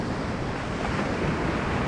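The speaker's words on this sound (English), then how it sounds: "oh, look at that. Oh, that's lovely. Lovely little waves." Small waves break on a beach shoreline in high wind, producing a steady, continuous wash of surf mixed with gusty wind noise across the whole stretch, with no voices.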